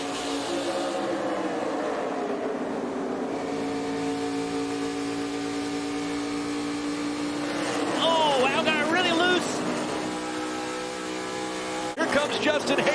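Xfinity Series stock cars at Texas Motor Speedway roar as they accelerate back up through the gears at a restart. Engine pitch climbs in sweeping waves, with a race commentator talking over the loud, continuous noise.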